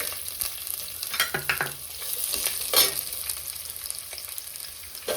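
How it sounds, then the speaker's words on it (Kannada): Onions frying in oil with ginger, garlic, cinnamon and cloves for a chicken curry, a soft continuous sizzle broken by a few close scraping stirs of the spoon against the pan, with no talking. "ಈರುಳ್ಳಿ ಹಾಕೋತಾ ಇದ್ದೀನಿ. ಇದು ಸ್ವಲ್ಪ ನೀಟಾಗಿ ಫ್ರೈ ಆಗಬೇಕು."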